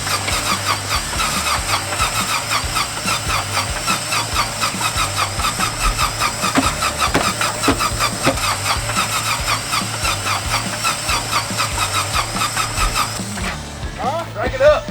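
A WW2 fighter airplane engine being cranked and started, a loud, steady mechanical roar with rattling and squealing running continuously throughout, dropping slightly near the end, with voices underneath.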